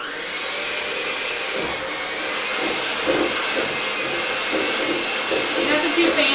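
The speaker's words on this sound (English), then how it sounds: "give them a little blend here with the mixer" An electric hand mixer whirs steadily, a constant close, airy hum with faint fluctuations, as it blends a cream cheese dessert mixture in a kitchen.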